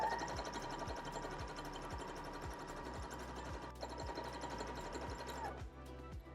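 A sewing machine stitching a pillowcase runs steadily with a regular mechanical ticking pulse and a constant whine, fairly quiet and close, stopping near the end.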